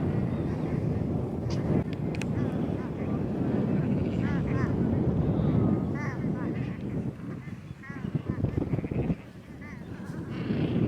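Steady low rumble of strong wind buffeting the microphone at Volunteer Point, Falkland Islands, with geese honking and bleating sheep mixed in, plus occasional voices.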